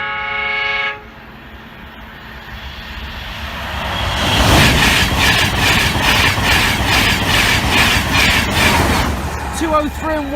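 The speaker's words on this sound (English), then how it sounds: "I think I can probably just see this train just down at Cromwell" A train thunders past the Norwell Lane level crossing near Cromwell, opening with a loud horn blast, then a long close roar of wheels rattling over rail joints, and a brief bell-like ringing as it fades.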